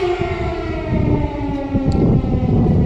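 An air raid siren wails steadily in Kyiv at Lukianivske Cemetery, loud and continuous with a low rumbling drone throughout, and no talk.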